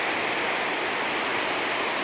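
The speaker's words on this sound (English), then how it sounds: "standing over the river right now" A river rushes beneath the Santuario de Las Lajas in Colombia, giving a loud, steady broadband roar of churning water with no pauses and no voices.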